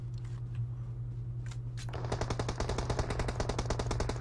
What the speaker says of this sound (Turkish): Her taraftan silah sesi.